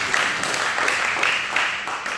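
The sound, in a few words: congregation applause at Easter service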